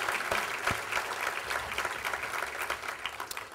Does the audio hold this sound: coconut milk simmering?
no